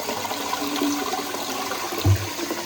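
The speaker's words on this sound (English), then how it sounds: "When that's done, make sure you flush this right here." A household toilet flushes after a Shark NeverTouch Pro dirty-water tank is emptied into it, a close, steady rushing of water with a brief low gurgle near the end.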